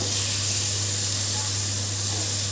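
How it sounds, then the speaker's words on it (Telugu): Fish frying in oil for an Andhra-style fish curry, a steady, even sizzling hiss with no pauses, accompanied by a constant low hum. "ఈ చేపలు ఇందులోనే ఫ్రై అయిపోతాయండి"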